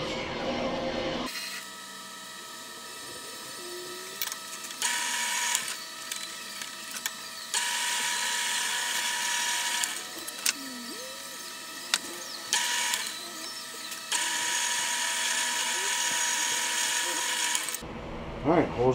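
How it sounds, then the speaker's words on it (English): Bloodwood knife handle scales, clamped together, are drilled through with a power drill, heard as steady whining runs broken by short pauses, fairly close, while a person talks. "I should be able to clamp those together and drill the hole straight through."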